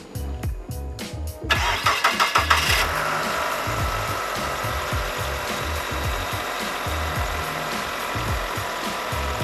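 Mitsubishi Galant engine cranking with several rapid starter pulses before catching, then settling into a steady idle, close and loud after an alternator replacement.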